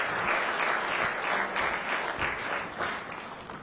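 Audience applause at a corporate excellence awards ceremony, sustained dense clapping from a large crowd at steady volume, tapering slightly toward the end.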